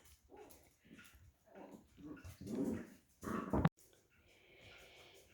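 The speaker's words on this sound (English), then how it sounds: "Yes, you like to bark when I talk." Small house dog barking and yipping in a run of short bursts, close by and fairly loud, with a sharper peak near the end and quieter rustling after.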